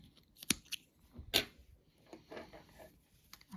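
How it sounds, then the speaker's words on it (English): Scissors cut knitting yarn during a bind-off, with two crisp, close snips followed by softer rustling and small handling clicks, all fairly quiet and without talk. "So what we do now is we cut our working yarn like so"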